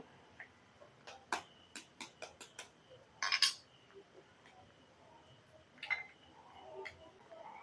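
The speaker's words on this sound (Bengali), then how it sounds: "এখানে আমি ডিম দুটো ভেঙে নেব" Two eggs cracked for egg patties, a series of short sharp taps and cracks close by in a quiet kitchen, followed by a couple of louder crunchy breaks.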